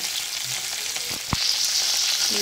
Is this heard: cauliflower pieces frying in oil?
yes